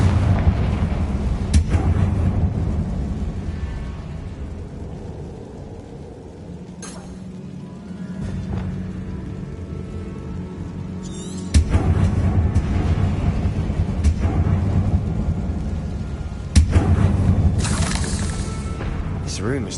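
Confringo spell explosions in Hogwarts Legacy inside a tomb, several loud booming blasts with sharp cracks and shattering debris, spaced across the scene over a low rumbling game soundtrack.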